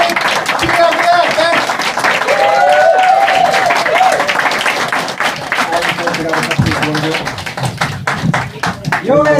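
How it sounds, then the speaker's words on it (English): Audience at a live comedy show clapping in a loud, dense round of applause, with cheering and voices mixed in throughout and the clapping thinning slightly toward the end. "Give yourselves a Greek round of applause."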